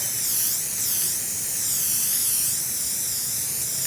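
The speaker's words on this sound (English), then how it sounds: "shake my spray paint and start from this side so I have the line" Can of spray paint hissing steadily along a cardboard edge used as a masking guide for a large painted game board, one loud close continuous spray with slight pulsing as the can sweeps back and forth.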